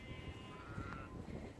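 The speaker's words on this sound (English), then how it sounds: "fields of sheep." Sheep in a field bleating, one clear wavering bleat in the middle over a steady outdoor background of wind and distant noise, with no talk.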